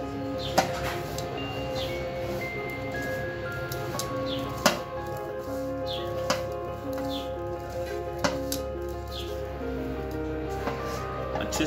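Red chili powder and spices are mixed for a green chili pickle, giving soft, sparse squishing and scraping sounds with occasional sharper knocks against the bowl, close up and fairly quiet.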